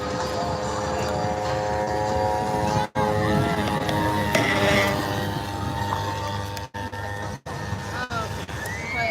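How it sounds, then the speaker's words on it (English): An RC airplane flies at the Wings over Houston air show, a continuous buzzing propeller drone with shifting pitch that carries on under the chatter of outdoor crowd voices. "This is just a wonderful aircraft."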